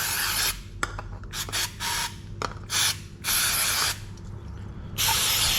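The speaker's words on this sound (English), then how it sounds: "I drenched this in brake cleaner." Brake cleaner sprayed onto a carburettor in repeated aerosol bursts of varying length, some long and some short, each a loud, close hiss over a steady low hum, with no talking.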